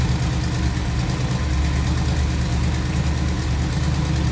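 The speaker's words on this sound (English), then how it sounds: "This truck really sounds beast, as well as Matt's truck." A drag racing truck's engine idles in a deep, steady rumble, loud and close, with an even low throb and no voices over it.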